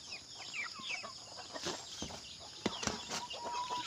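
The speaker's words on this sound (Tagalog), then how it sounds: "Ngayong umaga ay magpapakain daw sa ating mga sisiw." Young chicks, including black Australorp chicks, gather for a morning feeding, with a busy chorus of high chirps and peeps and some soft clucking and wing flutters, fairly close, no talking.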